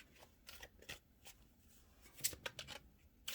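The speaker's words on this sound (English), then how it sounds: "shuffle the next card" A deck of tarot cards is shuffled up close in a quiet room, giving soft irregular riffles and flicks with a few sharper snaps.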